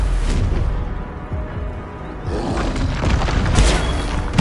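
A Confringo blasting spell exploding in a Hogwarts video game, a loud, dense rumble of booms and crackling debris that dips briefly, then swells again with sharp bursts near the end.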